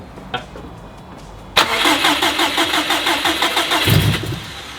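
A built 2005 Subaru STI engine fires up for the first time after a brief crank, then settles into a loud, steady, slightly lumpy idle with rhythmic pulses and a small blip near the end.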